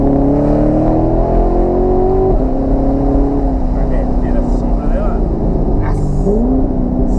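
Corvette engine on a night drive: a loud, continuous deep drone that rises and falls in pitch as it revs and shifts, with wind and road noise mixed in.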